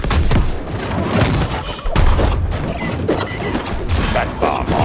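Repeated bomb-arm explosions from MultiVersus gameplay, with dense booming bursts and crashing impacts that run continuously over busy game sounds and some overlapping voice.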